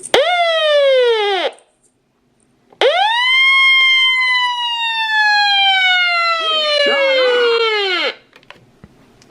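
A Midland 74-109 weather radio sounds a loud, steady electronic test alert tone with rich harmonics in two long blasts, a brief cutoff between them, then silence with faint room noise.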